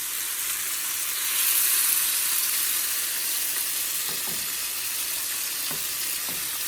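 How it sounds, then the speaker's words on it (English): Steady, hissing sizzle of shrimp, chicken and bacon frying in a hot pan, close and continuous, with a few faint clicks and taps of utensils. "You want to hear that sizzle."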